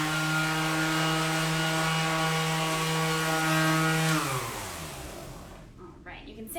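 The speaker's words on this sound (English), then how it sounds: "you can sand it down as much as you need to get the material where you want it before you stain" A RYOBI cordless sander runs on wood with a loud, steady motor whine and buzzing abrasion, then spins down and fades in its final seconds.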